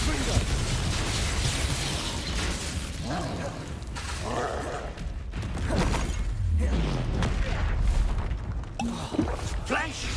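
The Confringo fire spell from Hogwarts Legacy lands in a loud booming explosion, followed by crackling bursts and rumbling impacts amid continuous spell-combat clatter and occasional game voices.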